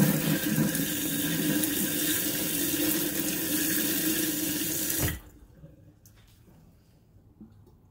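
A kitchen faucet runs at strong pressure after a low-flow fix, a loud steady hissing rush of water into the sink for about five seconds before it shuts off abruptly, leaving a few faint drips and clicks.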